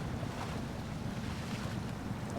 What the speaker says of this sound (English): With differential off, we should get through this little bit of water right here pretty easily